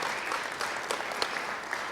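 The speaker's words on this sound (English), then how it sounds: "Yes, please clap for that." Applause from the audience at a Kentucky governor's press conference, a steady, fairly soft wash of clapping heard from a little distance, with no voices over it.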